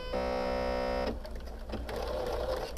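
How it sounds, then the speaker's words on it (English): Sewing machine stitching a quilt seam with a quarter-inch seam allowance, a close steady whirring buzz for about a second, then stopping, followed by softer handling noises. "I'm going to sew just a little bit"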